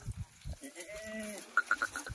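Kathiyawadi goat bleats in a farm pen, a drawn-out nasal call followed by three short clipped bleats, over low thumps and shuffling.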